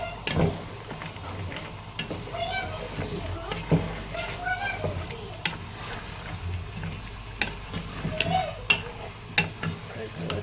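Masala with blended cashew and pistachio paste sizzles and crackles in a hot pan for chicken biryani while a spoon stirs and scrapes with irregular clicks, steady low frying noise throughout.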